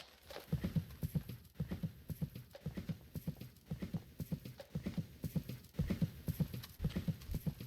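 Rhythmic three-beat hoofbeats of a horse cantering on soft ground, steady and fairly close, with no talking.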